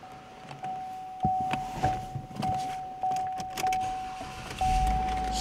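Power windows operating inside an Impala car with gray cloth interior: a series of short electric motor whirs, each ending in a soft thunk as the glass stops, repeated several times at close range.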